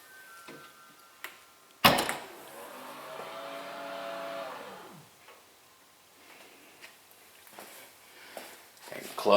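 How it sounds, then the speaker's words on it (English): Volvo S90 trunk pops open with a sharp latch click, then a quiet electric motor whirs for a few seconds as the lid rises, with light handling noises around it. "You can press it anywhere within the release button area to open up the trunk."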